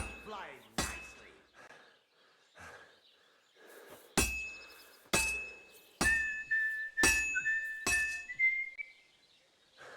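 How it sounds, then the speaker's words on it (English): A character in Kingdom Come Deliverance 2 whistles a bright melody while a hammer strikes metal in ringing, clanging blows during smithing, with a voice talking in between. "I like how Henry whistles the game's theme."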